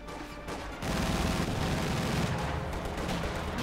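Battle in Company of Heroes 2, with an infantry gun firing on conscript infantry: dense, continuous gunfire and rumbling blasts that grow heavier after the first second and stay loud throughout.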